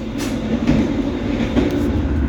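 Argo Bromo Anggrek express train passing straight through Karawang station, a steady loud rumble of wheels and carriages with faint rhythmic clatter, continuous and close, with no voices.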